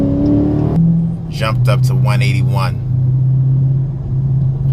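Dodge Charger Daytona 392 pulling onto a highway, a steady engine drone and road rumble running throughout as someone talks over it inside the cabin.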